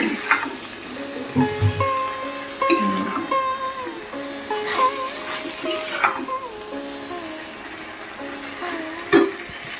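Vegetables sautéing in a pan at home for dinner, with a soft sizzle under scraping stirs and clanks of a spoon, while background voices and other household noises come and go.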